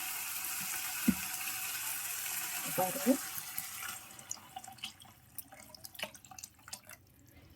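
Tomato soaking water is poured into a soup pan of sautéed onions, a steady splashing pour that tapers off into scattered drips, with a brief spoken word.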